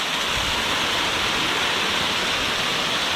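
Old hand-laid stone waterfall on a wild creek, heard as a steady, loud rush of falling water filling the whole scene without pause or voices.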